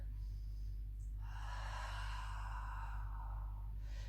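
Breath during a Pilates pelvic-mobility exercise: a long, soft airy inhale swells for about two seconds and then fades, heard alone over a steady low hum.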